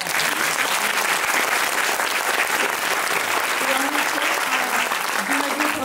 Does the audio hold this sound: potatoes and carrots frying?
no